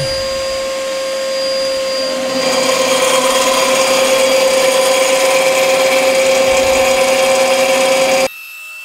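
A power saw whines loudly through wood being cut for a carved kuksa cup, with a steady tonal motor hum that gets louder as the cut starts and then cuts off abruptly near the end, while an extractor hums in the background.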